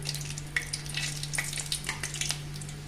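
Asafoetida and dried red chilies hit hot tempering oil for tomato rasam, giving a steady close sizzle and crackle with a few sharper pops, over a constant low electrical hum.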